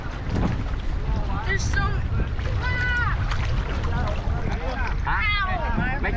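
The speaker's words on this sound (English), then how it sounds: "guiding the boat right into us" A boat rumbles across the water in Thailand amid wind and splashing, while several people talk over the noise.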